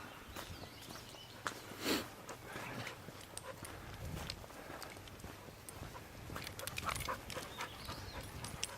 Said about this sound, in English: if you can hear me over the dogs